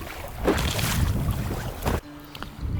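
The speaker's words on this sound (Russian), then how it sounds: "Чем дальше от ну, как бы конца залива, тем волна все серьезней." Arctic sea waves slap and splash around a kayak in a widening bay, short bursts of water against the hull with wind noise, then a quieter lull.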